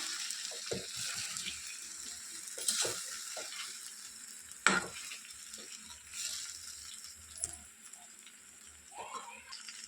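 Cauliflower and capsicum stirred in a pan, with a soft sizzle under the scraping and a few sharp utensil clinks, close by; a voice speaks briefly between the stirs.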